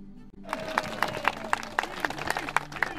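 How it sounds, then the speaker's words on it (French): Crowd on a quay at a Vendée Globe sailing race event breaks into applause, dense rhythmic clapping swelling right after a voice, loud and continuous. "Une vague d'applaudissements pour le créateur du Vendée Globe, Philippe Gentot"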